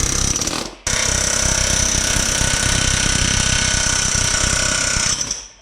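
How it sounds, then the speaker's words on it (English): A power tool hammers at a roll pin in a tractor PTO shaft, a loud, steady, fast rattling burst that stops briefly near the start, then runs for several seconds and fades out. "We drive out the roll pin, and then there's a press fit between these two parts"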